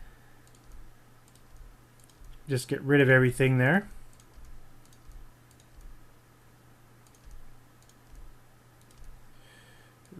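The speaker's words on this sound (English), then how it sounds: "just keep clicking these little red dots" Mouse clicks while editing in Photoshop: a quiet, regular series of small clicks runs throughout, with a brief spoken phrase over them partway through.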